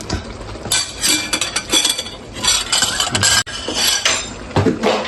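A lid clinks and rattles onto a cooking pan holding sautéed string beans and eggplant, with metallic clatter in several bursts and a sharp knock, close and fairly loud with no talking.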